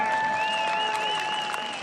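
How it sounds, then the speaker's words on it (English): Crowd applauding steadily for the Danish bronze medalist Pernille Knudsen at the 2021 ICF Canoe-Kayak Sprint World Championships in Copenhagen, a dense, even wash of clapping with a few whistles over it, no talk. "A big cheer from the crowd"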